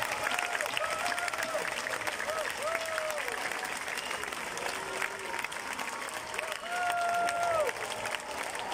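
Sustained applause from a large crowd, steady and loud throughout, with a few voices calling out over the clapping.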